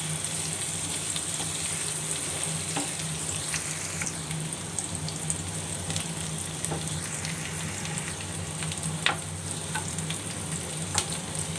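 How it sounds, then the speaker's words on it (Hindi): Onions browning in oil in a pan over low heat, an even moderate sizzle with occasional light stirring clicks, no speech. "इसमें मैंने प्याज जो है डाल दिए हैं। प्याज़ों को हम जो है ब्राउन कर लेंगे हल्का हल्का,"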